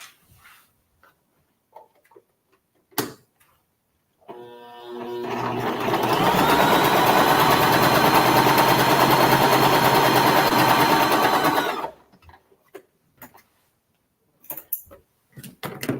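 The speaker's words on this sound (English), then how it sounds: "we're gonna take our squares and we are going to sew right on that line" A sewing machine stitches quilt squares along a marked line, a fast, even mechanical whir that runs steadily for about seven seconds, bracketed by scattered clicks and handling taps before and after.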